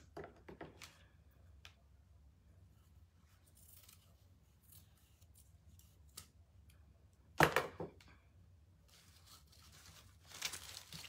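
Scissors snip through a banner in a few quiet, crisp cuts, with a louder crinkling rustle of the material midway and more soft rustling near the end.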